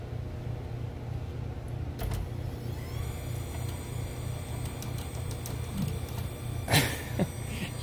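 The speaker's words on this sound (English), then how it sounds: "Power steering fires up and it actually starts firing some of the coils and injectors." Electric power steering on a 2014 Nissan Altima 2.5L with a crank-no-start fault energizes after the cam sensor is tapped: a few clicks, then a steady motor whine with a louder clatter near the end, no talking.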